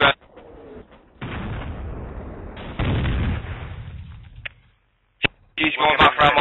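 Gunfire and explosive blasts in the military video game Project Reality come in loud, rumbling bursts with gaps of near silence, closing on a sharp crack and a burst of radio-like chatter.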